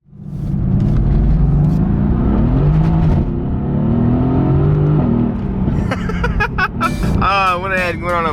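A single-turbo 2JZ-powered Lexus IS300 accelerates with a steady drivetrain rumble and whir under someone talking, then further voices and squealing tones follow.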